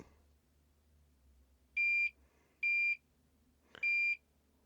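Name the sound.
combustible gas leak detector alarm beeping, Toptes PT-830S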